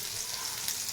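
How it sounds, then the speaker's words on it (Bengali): Fish frying in a pan on a home stove gives a faint, steady hiss and crackle of hot oil, continuous and unbroken, with no voices. "এখানে মাছ ভাজা হচ্ছে"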